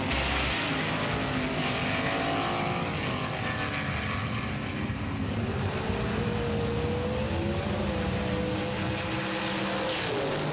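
Race cars battling around Mount Western Raceway, loud continuous engine roar with rising and falling revs as several cars pass close, no voices.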